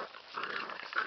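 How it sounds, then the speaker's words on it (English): An eight-week-old Airedale Terrier puppy growls in a low, continuous rumble that swells slightly near the end, close and clear, with no talking. "Everybody knows she's in growl mode."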